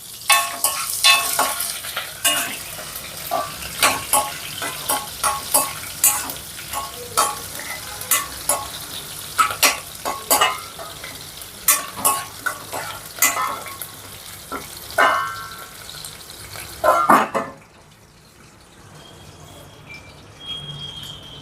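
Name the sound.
hot oil frying in a pan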